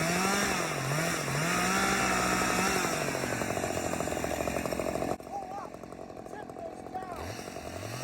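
A chainsaw with a short bar cuts wood while kickback is demonstrated, its engine loud and close with pitch surging up and down, then dropping abruptly to a lower rough idle near the end.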